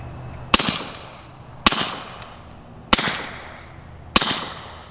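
Four suppressed rifle shots fire one by one at even intervals of a little over a second, each a sharp loud crack trailing off into a short echo, with no talking between them.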